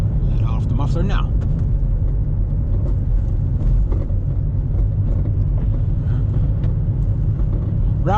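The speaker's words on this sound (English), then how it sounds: "Let off the muffler now." A truck engine rumbles loud and steady with its muffler let off, a continuous low roar that runs for the whole stretch while people talk over it.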